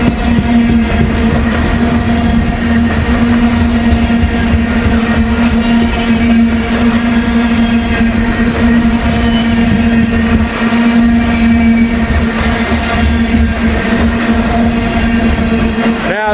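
A freight train with two rear double DPU locomotives passes close by, a loud sustained engine drone and rumble with a steady hum that continues unbroken, no voices present.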